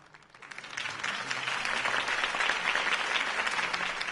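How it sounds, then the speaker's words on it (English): A crowd breaks into applause after a campaign speech, starting quietly and swelling within a second into sustained, dense clapping that carries on steadily to the end. "If only Mr. Wayne, my campaign's largest backer, could have heard that applause"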